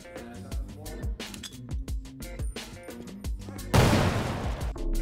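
In a video game set around a toilet, rapid gunshots crack in quick irregular bursts, then a grenade explosion bursts into a loud, broad roar that lingers near the end.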